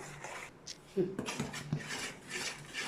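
Flour being stirred into hot sugar syrup in a pan for Mysore pak, giving soft scraping and rubbing of a utensil against the metal with light clinks, fairly quiet and steady over a few seconds.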